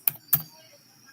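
A couple of sharp, close keystrokes on a computer keyboard, spaced apart, with another click at the very end.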